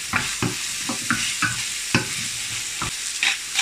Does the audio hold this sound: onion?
yes